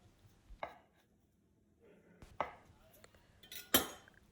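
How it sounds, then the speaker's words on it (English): Knife cutting kanikama crab stick into three pieces on a board, three faint, distinct chopping taps spaced apart in a quiet kitchen, no talk. "Grab a piece of kanikama. Then cut it into 3 parts."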